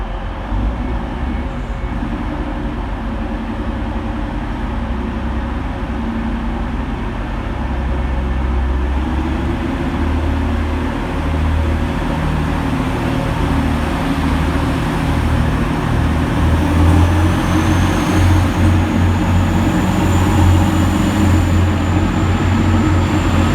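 A passenger train of two coupled Class 185 units departs Manchester Victoria station, rumbling steadily with a low, continuous drone that builds slightly as it pulls away, with a faint high whine rising later.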